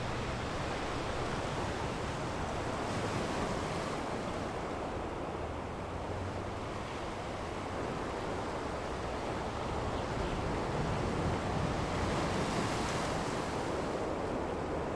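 Ocean surf washes in at North Myrtle Beach near Cherry Grove Pier, a steady, broad roar of breaking waves with some wind buffeting the microphone.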